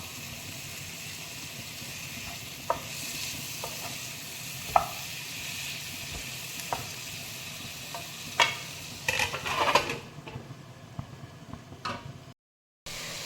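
Tomatoes go into a sizzling fish molee pan and get stirred, a continuous close fry with scattered scrapes and taps of the spoon that cut out briefly near the end.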